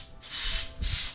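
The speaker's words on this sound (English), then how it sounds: "So I'm just gonna spray a little bit more." Aerosol flocking spray hissing onto the branches of an artificial Christmas tree at close range, two steady bursts, the second starting shortly after the first ends.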